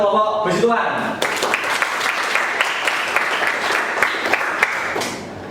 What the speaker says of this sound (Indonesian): Oke, tepuk tangan untuk kelompok besi tuan.